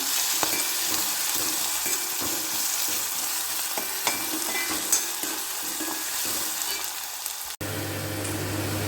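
Beetroot and other inji puli ingredients frying in a pan, a close crackling sizzle laced with frequent stirring scrapes, shifting to a lower, steadier bubbling tone near the end.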